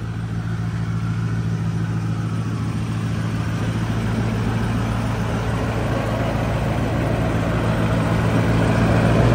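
A 2008 Ford F450 diesel truck in Lariat trim idles at an auction lot. A steady, droning low rumble holds constant and close, swelling slightly toward the end.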